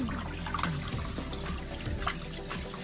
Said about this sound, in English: this is the first rinse. Gonna pour that out.